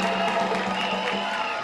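Applause and crowd noise at a political rally in Abobo Centre, a dense, steady wash of clapping and cheering from a large audience, with some voices mixed in.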